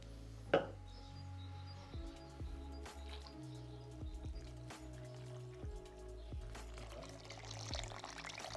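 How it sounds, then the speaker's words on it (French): Lukewarm water pours into a salad bowl for homemade pizza dough as a faint, quiet trickle and splash, with soft drips and clinks and low background hum. "tu prends ton eau tiède, les deux du coup, et tu verses"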